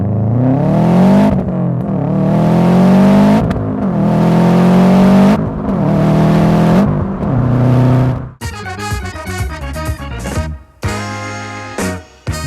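Loud, deep rumble from a turbo EJ Subaru fitted with an aftermarket downpipe, revving hard in several rising and falling pulls, then switching to a choppier, crackling burble near the end, close up and with no voices.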